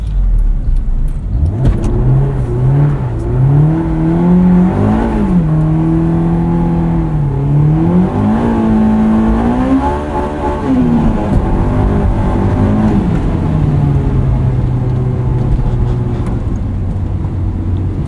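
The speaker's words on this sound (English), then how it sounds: "Screams too with that new exhaust." A 2001 Honda S2000 with an aftermarket exhaust revs loud and close while driving in snow, its engine pitch climbing and dropping through several pulls before settling into a steady drone.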